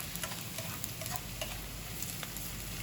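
Garlic browning in a frying pan for Sambales-style dinuguan, a continuous close crackling sizzle with small ticking pops scattered throughout, steady and without talk.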